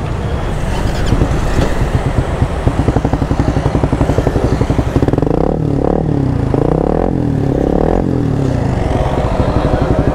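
A Suzuki Raider 150 FI motorcycle engine with an RL Power aftermarket pipe with fiber mat packing idles loudly close by with a rapid, throaty exhaust pulse, then revs up and down in a few surges.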